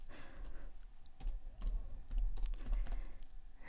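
Keys clatter on a computer keyboard as a web address is typed, a quick close run of uneven taps with a few louder strikes, and no talk.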